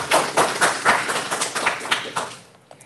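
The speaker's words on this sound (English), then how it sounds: "let's all give the students a round of applause for their hard work and participation." An audience at a high school civics competition applauds students, a dense burst of clapping that fades out over a few seconds.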